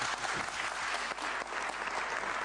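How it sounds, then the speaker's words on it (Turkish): Applause from a hall full of Kırıkkale University students at a political talk event, a sustained, even burst of many hands clapping, moderately distant and continuous. "Bir dakika çok alkış alacaksın burada"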